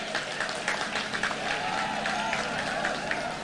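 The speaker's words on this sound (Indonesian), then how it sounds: "Kita berikan tepuk tangan yang meriah." About 1,300 attendees at a large alumni reunion of SMA Negeri 1 Ketapang applaud continuously, a dense crowd clapping with voices talking over it.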